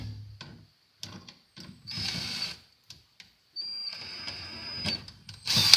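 A drill bores into a metal reinforcement on a car table build, giving short, stuttering ratchet-like bursts separated by pauses, with a louder grinding stretch near the end.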